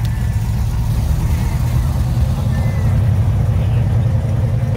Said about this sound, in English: There goes a 70 Cuda six pack car.